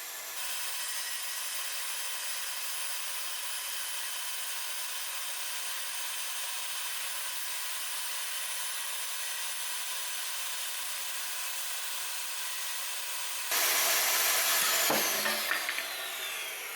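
A power saw cuts through wooden top pieces for a filing cabinet makeover, starting abruptly near the end of a long stretch of steady background hiss and running loud and close for a couple of seconds.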